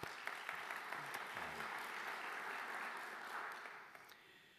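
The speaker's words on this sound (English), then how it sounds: "A big round of applause, please." Audience applause at an art museum event hosted by the Cleveland Museum of Art, a sustained, dense wash of many hands clapping that stays steady before tapering off near the end, with no voices over it.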